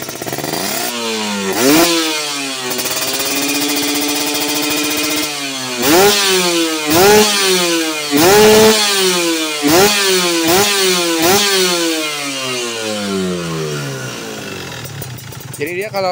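A two-stroke motorcycle engine burning Repsol MXR 2T oil mixed with racing two-stroke oil, wet exhaust, revved repeatedly in sharp rising blips then dropping back, loud and close.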